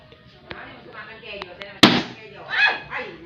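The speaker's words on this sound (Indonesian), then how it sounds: "dan balonnya meledak" A sudden sharp pop as a balloon held over a candle flame bursts, ringing out once amid ongoing talking.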